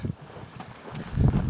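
A light wind blows while boating on a lake in Finnmark: low, buffeting gusts hit the microphone at the start, ease off, then return stronger and steadier toward the end.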